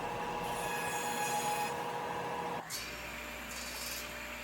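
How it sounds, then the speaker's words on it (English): A wooden board runs through a thickness planer, a steady whining machine drone with a faint rubbing texture. About halfway through the pitch and loudness drop abruptly as the cut ends and the machine runs on more quietly. "Using the planer, we'll take the board down to our desired thickness."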